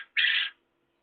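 A pet therapy bird kept alongside chickens gives a single loud, harsh call of about a third of a second, close by and alone, followed by quiet.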